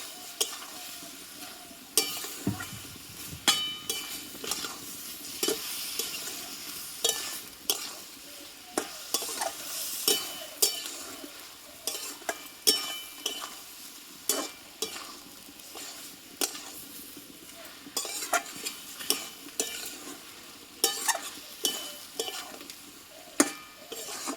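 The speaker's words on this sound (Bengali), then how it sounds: "এখানে কিছু কাজু পোস্ত বাটা দিয়ে আমি আরও এক মিনিট মতো কষিয়ে নিয়েছি" Cashew and poppy seed paste being sautéed in a pan, a steady run of spoon scrapes and stirring strokes over a quiet sizzle, repeating throughout without any voices.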